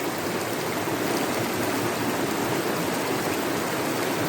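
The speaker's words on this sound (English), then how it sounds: "In front of you, there is the most beautiful rainbow waterfall," A waterfall sound effect for a guided meditation scene: a steady, full rush of falling water pours on evenly and loudly throughout, with no voices over it.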